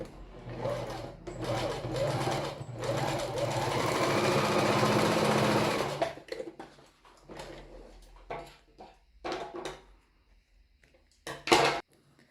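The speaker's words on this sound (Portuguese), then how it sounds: "vou fazer agora aqui mais uma costura bem reforçada pra ser o acabamento" A sewing machine runs a reinforced finishing seam on a swimmer-style bra, a steady loud whir for about six seconds, then stops. Short bursts of stitching and handling noises follow.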